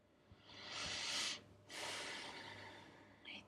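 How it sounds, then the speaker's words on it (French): Slow deep breaths taken during a guided meditation: a long soft inhale followed by a drawn-out exhale, close and quiet, with no talking. "3 grandes respirations."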